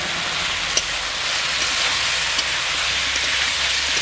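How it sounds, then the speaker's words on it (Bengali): Fried potatoes and raw jackfruit hit hot oil and spices in a pan, giving a steady, close sizzling hiss throughout with a couple of faint clicks. "এবার আমি ভেজে রাখা আলু আর ইঁচোরটা দিয়ে দিচ্ছি।"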